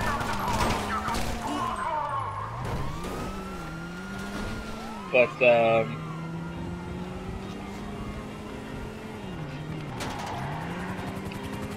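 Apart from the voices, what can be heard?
car driving in a video game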